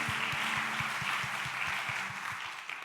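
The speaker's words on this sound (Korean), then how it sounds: "우리 이 자리에 부르신 하나님께 감사의 박수 올려드립시다." A church congregation applauds with steady, dense clapping over a faint, regularly pulsing low background tone, gradually easing off at the end.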